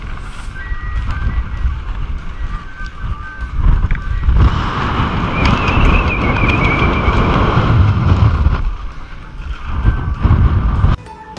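Strong mountain wind roars on the Entrèves ridge in the Vallée Blanche, loud and steady, buffeting the microphone with deep rumbling gusts throughout.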